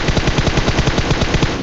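In PUBG Mobile, an M4 rifle fires in rapid automatic bursts, with loud, evenly spaced shots rattling nonstop for under two seconds and no talking.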